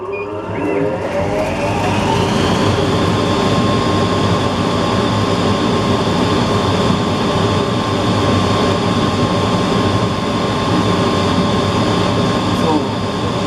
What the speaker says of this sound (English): And exhaust fan. And start.